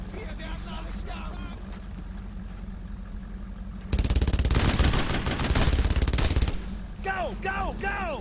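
A machine gun fires a long, dense burst mid-battle in the Brothers in Arms World War II game, preceded and followed by scattered gunfire over a rumbling engine background.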